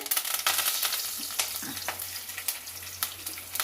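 Dried red chillies, curry leaves, cumin and mustard seeds fry in hot oil with a steady close sizzle, broken by repeated scraping stirs of a spoon in the pan.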